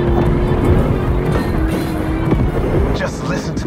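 An American muscle car's V8 in The Crew Motorfest rumbles with a deep, steady, loud growl that holds throughout, a brief higher rasp rising near the end, and talk overlapping.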